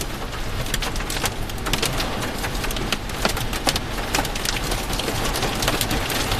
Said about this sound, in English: we're starting to get some hail coming down right now